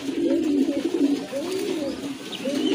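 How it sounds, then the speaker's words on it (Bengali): A pair of pigeons for sale coo in close, loud, repeated throaty rolls with a few faint chirps behind. "মাশাআল্লাহ খুবই চমৎকার এক জোড়া কবুতর"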